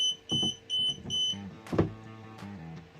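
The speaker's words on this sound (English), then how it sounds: "it will stop automatically, and as you can hear, it beeps." An Elegoo Mercury X wash and cure station gives three short, evenly spaced electronic safety beeps as it stops automatically, followed by clunking and rattling handling noises.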